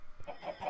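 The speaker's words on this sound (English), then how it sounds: "Above here is more chickens laying eggs" Chickens in the video game Minecraft, kept in a pen where they lay eggs, give a few short clucks in quick succession, close and moderately loud.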